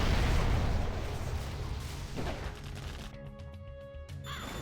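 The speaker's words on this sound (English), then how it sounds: "Very nice fuel air bomb." A fuel air bomb detonates in the strategy game Generals Zero Hour, a loud broad roaring blast that rumbles and slowly fades over several seconds, ending with smaller debris-like crackles.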